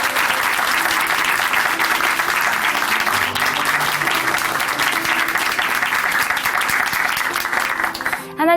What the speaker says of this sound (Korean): 우리 다시 한번 김찬양 자매님께 큰 박수 보내드릴게요